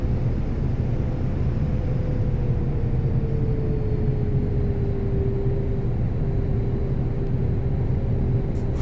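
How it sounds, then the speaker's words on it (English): Airbus A321neo engines spooled down to idle thrust as the jet floats above the runway before touchdown: a steady, heavy cabin rumble with a faint whine slowly sliding lower in pitch, constant and unbroken throughout. "When you hear the thrust come to idle and you're just floating along the runway."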